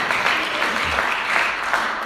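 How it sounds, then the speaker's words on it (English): An audience at a convention claps together in a steady, dense burst of applause that carries through the whole moment, with no voices on top. "So I'd like to give a round of applause to you guys."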